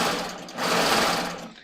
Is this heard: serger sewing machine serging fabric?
yes